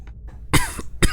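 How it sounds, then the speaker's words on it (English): A man coughs in a game setting aboard a Russian Akula-III submarine: a couple of faint throat sounds, then two loud, harsh coughs close to the mic, separated by a short pause. "why I'm coughing."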